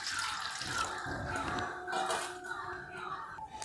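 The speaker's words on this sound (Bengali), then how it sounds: "একটি বড় পাত্র নিয়েছি এবং সেই পাত্রে আমি জল দিলাম।" Water is poured into a large bowl while a mushroom pakora batter is being made, giving a steady splashing stream that runs throughout at moderate volume.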